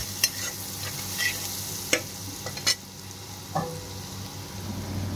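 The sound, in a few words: onion and turmeric being stirred and fried in a pan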